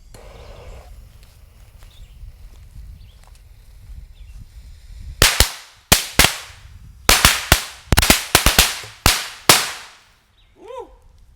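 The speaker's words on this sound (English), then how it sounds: "These are red apple, platinum flash firecrackers" Red Apple Platinum Flash firecrackers burst in a rapid, irregular string of about a dozen loud, sharp cracks after several seconds of quiet outdoor ambience, ending with a brief faint whistle.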